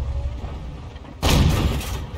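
A tank cannon fires once in a World of Tanks–style game with a VK 28.01, a single abrupt, loud boom that cuts through quiet background rumble and then rolls off into a lingering roar.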